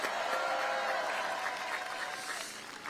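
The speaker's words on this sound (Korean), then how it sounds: "박수 한번 부탁드립니다" An audience at a Pyeongtaek political rally applauds two lawmakers being introduced during a speech, a steady, moderately distant roar of many hands clapping that holds throughout and fades slightly at the end.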